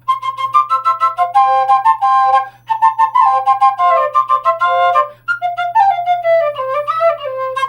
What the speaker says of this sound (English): And a C flute.